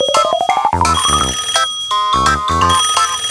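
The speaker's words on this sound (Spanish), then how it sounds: "¡El teléfono!" A bright electronic telephone ringtone plays in a Pocoyo cartoon: a rising chirp, then a repeating melodic trill of short beeps with brief pauses between bursts. It is loud and close, with no voices over it.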